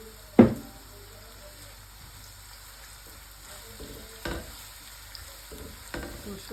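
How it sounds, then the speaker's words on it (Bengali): Ginger, garlic and onion fry in a pot in a home kitchen, a soft steady sizzle opened by a sharp clatter, with a few later knocks of stirring. "মশলা কষাই নিই আগে আদা রসুন দিয়ে একটু পেঁয়াজ দিয়া আগে কষাই নিই"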